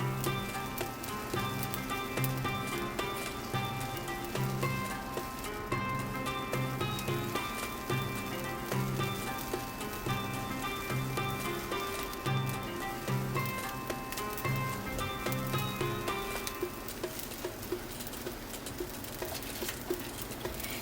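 Kunafa batter sizzles steadily on a hot nonstick tawa over a stove, a continuous fine crackling patter lasting throughout, with a faint tonal backing underneath.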